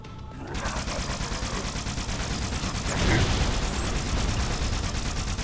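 Rapid, sustained enemy weapon fire in Halo: Spartan Assault, a dense, loud stream of gunshots that swells midway, with a player's voice talking over it.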